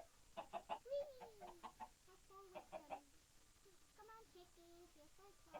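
Chickens clucking and squawking as a flock tumbles down in a chicken fall, several close bursts of clucks and drawn-out squawks scattered across the stretch at fairly low volume.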